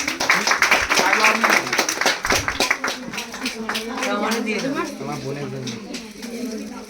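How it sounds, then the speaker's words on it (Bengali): Applause for a tenth-grade student honored for full attendance, with steady clapping from a gathered audience at a parents-and-teachers meeting, mixed under ongoing talk from people nearby. "তো রানীর জন্য একটা করতালি।"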